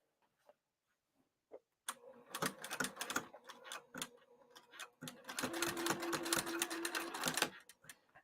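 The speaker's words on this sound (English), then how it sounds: "And so I'm just going to sew that." A sewing machine stitches a seam on a cross-body bag, starting with a few isolated clicks, then running in rapid bursts with brief pauses before a longer steady run.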